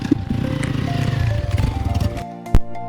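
A motorcycle on an adventure bike tour in the Neelum Valley, Kashmir, its engine chugging and revving in a steady pulsing rhythm after a kick-start, ending with a sharp clunk.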